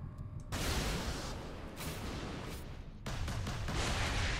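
Gunfire in the Warhammer 40K Space Marine video game, a dense continuous roar of blasts and rumbling bursts with brief dips, loud and close, no talking.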